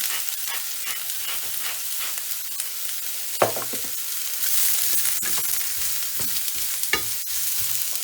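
Pork neck sizzles steadily in a frying pan, a constant close hiss of frying fat with occasional stirring clatter and scrapes over the top.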